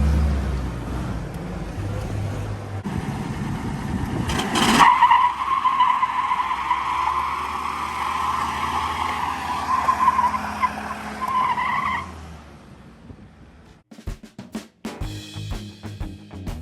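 A Toyota FJ45 with a new exhaust does a burnout: engine revs build, then a loud sustained tire squeal screeches for several seconds before cutting off, followed by scattered clattering and revving bursts.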